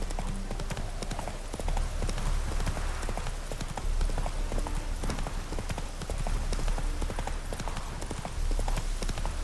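Horse hooves clip-clop steadily and continuously on a road in The Witcher 3, loud and close throughout with a dense, even rhythm and faint ambient noise beneath.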